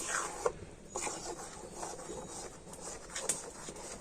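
Thickening sandesh mixture stirred in a pan over medium heat, a steady close scraping and rasping of the spoon against the pan bottom, quiet and continuous with small bumps.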